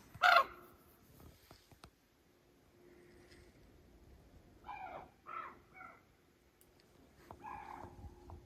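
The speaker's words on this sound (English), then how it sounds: "I've ever heard a crow make that noise." Crow calling during rifle season in the woods, an odd harsh call rising sharply at the start, then several further raspy caws in a scattered series later, at moderate distance in quiet surroundings.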